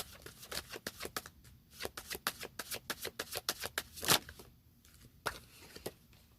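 Tarot cards being shuffled by hand, a quiet rapid run of crisp papery flicks and riffles close by, with a sharper snap partway through and a last slap as a card is drawn.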